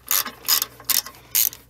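A ratchet tightens the bolts on a Jeep AW4 transmission pan in four short, close bursts of clicking, each lasting about a quarter second and separated by brief pauses.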